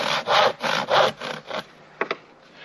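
A hand saw rasps through a wooden fence board in about six rhythmic back-and-forth strokes, close and loud, then stops, followed by two quick knocks.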